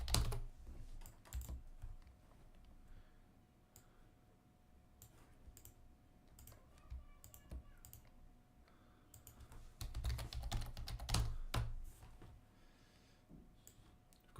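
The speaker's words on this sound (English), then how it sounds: "Got so quick at typing" Fast typing on a computer keyboard comes in quick bursts of clicking keys with short pauses between, growing denser and louder toward the end of the run.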